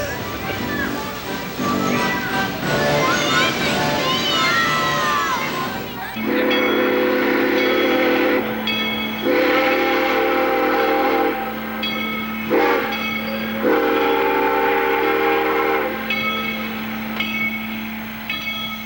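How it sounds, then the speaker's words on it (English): The 353 steam locomotive sounds a series of loud, sustained whistle blasts close by, broken by short pauses, after a stretch of rumbling and voices at a 1994 steam show in Rollag, Minnesota. "The 353 is one of the few operating steam locomotives in the country."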